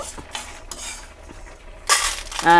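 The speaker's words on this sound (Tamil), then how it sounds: "இப்போ நம்ம சிம்மில் வச்சதுனால நல்லா வறுபட்டுருது" Ingredients for sampangi pitlai roast in a pan on a low flame: light metal clinks and spoon scrapes, then a louder burst of sizzling and stirring near the end.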